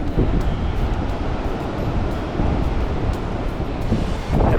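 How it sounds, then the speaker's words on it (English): Loud, steady wind roars continuously outdoors, with trees thrashing under a weather warning, buffeting the microphone in broad rumbling gusts with no break. "It's pretty windy out here today."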